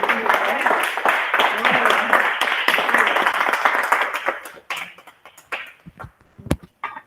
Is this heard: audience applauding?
yes